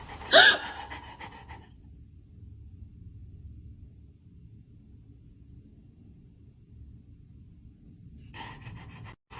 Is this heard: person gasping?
yes